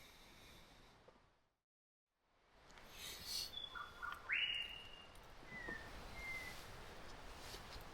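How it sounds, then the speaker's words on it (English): An unfamiliar bird calls in a rainy forest camp in Taranaki, giving a few short, clear chirps and whistles at moderate distance over steady background hiss, after a brief silence. "The new type of bird, I think."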